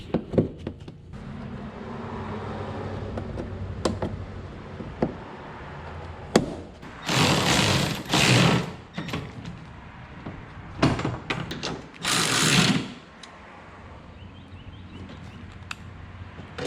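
A Toyota Tacoma headlight assembly is bolted back into place, with several loud, sharp bursts of tool and metal noise spaced over a quiet background and no talking.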